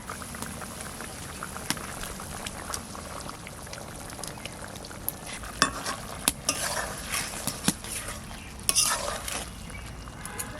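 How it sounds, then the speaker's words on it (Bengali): Small puti fish sizzling in a pan of sour amra and potato curry, with a steady bubbling simmer and occasional sharp scrapes and clatters of a spatula stirring through the contents. "এবার মাছ কটা দেব"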